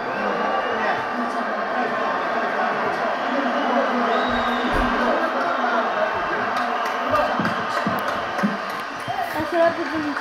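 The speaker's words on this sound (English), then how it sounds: "a great show of respect from the crowd here at the T-Mobile Arena in Las Vegas" A large arena crowd at T-Mobile Arena in Las Vegas roars and cheers after a boxing fight, a dense sustained swell of voices and scattered clapping with talk running over it.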